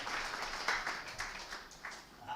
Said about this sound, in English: A very round of applause once again for Mr.